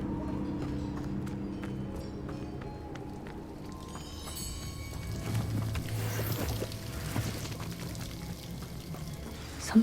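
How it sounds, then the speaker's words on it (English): A waterfall in the video game Hogwarts Legacy gives a steady rushing, pouring wash of water that swells louder toward the end, with faint clopping footsteps layered through it. "The waterfall."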